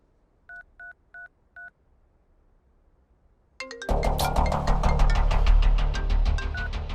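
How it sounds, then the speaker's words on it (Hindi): Four short, evenly spaced touch-tone beeps from a phone keypad, followed by a sudden burst of loud, busy noise. "अनिल को फोन लगा।"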